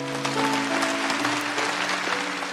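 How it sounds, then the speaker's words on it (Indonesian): Applause at a church gathering, a brief burst of clapping heard under music and crowd noise, with a voice present. "kasih tepuk tangan untuk Tuhan Yesus"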